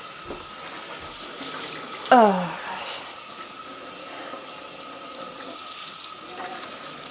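Cold water runs from a tap into a sink while tie-dyeing T-shirts with powder dyes, a steady close hiss of flow throughout, with a brief exclamation from a woman partway through.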